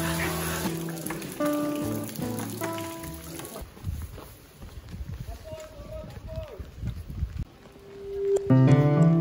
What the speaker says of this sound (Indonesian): Hujan dan badai masih belum menunjukkan tanda-tanda redanya